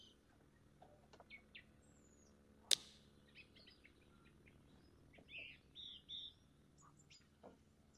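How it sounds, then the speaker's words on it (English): Birds chirp and tweet in the ambient soundscape of the video game Tower Battles, scattered short calls over a quiet background with one sharp click partway through and a cluster of brighter chirps near the end. "It's just birds."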